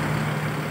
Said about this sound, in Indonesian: Lihat bus ALS-nya. Dengan mesin Mercedes-Benz 1626.